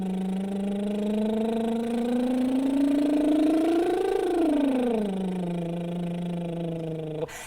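A voice makes a lip trill in imitation of a motorbike, a buzzing rumble that rises steadily in pitch, peaks, then falls back down over several seconds, close and alone.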